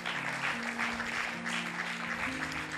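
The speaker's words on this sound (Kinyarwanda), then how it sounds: "Amashyi menshi ku mwami Yesu Kristo" Sustained applause from a church congregation during a sermon, fairly faint and continuous, with held keyboard notes underneath.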